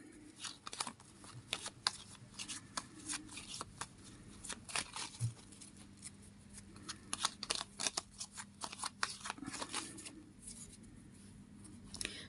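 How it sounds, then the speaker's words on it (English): Tarot cards being reshuffled by hand, a dense run of quick, papery riffles and flicks repeating closely through the whole stretch, soft and near with no voices. "I'm going to divide the deck into two, reshuffle"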